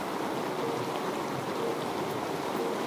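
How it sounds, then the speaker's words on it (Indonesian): Steady rain falls over a riverside village in Muara Joloi, Seribu Riam, as an even, close hiss of drops on surfaces with no voices. "Hujan guys"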